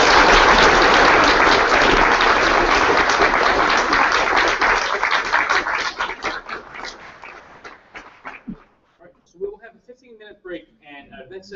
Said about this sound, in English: please, a big round of applause.